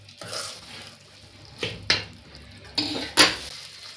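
Jaggery is stirred in a cooking pot, with a spoon scraping and clanking against the metal in several sharp, close strokes separated by quieter gaps.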